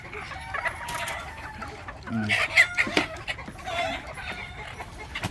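Gamefowl stags and hens cluck and squawk close by, with a rooster crowing amid the flock's busy, overlapping calls.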